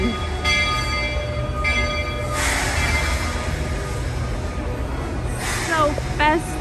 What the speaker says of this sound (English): And here comes the train right now.